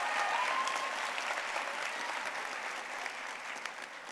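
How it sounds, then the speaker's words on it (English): Broad, sustained applause from a commencement crowd rolls on evenly at moderate loudness, with a brief whistle near the start, for a school's incoming principal at a high school graduation ceremony. "Please give a round of applause."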